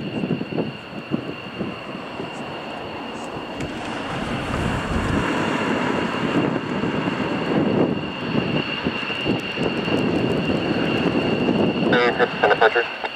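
Four Lakenheath F-15 fighter jets depart RAF Mildenhall with a broad, loud engine roar that builds and sustains, while people talk nearby and radio chatter crackles over the noise.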